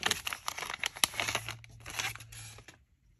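Crinkling of a plastic Ziploc bag while a CJRB Tigris knife is unboxed, heard as close, irregular rustles and crackles that fade out near the end.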